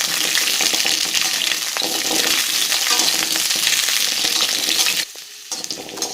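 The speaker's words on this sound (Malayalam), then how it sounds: "കഴുകി വൃത്തിയാക്കി വെച്ചിരിക്കുന്ന നെല്ലിക്ക അതിനകത്തിട്ട് നന്നായിട്ട് വഴറ്റിയെടുക്കാം." Gooseberries (nellikka) sautéing in sesame oil give a loud, dense, continuous sizzle with spatula stirring scrapes running through it; the hiss dips briefly near the end before resuming, close up with no voices.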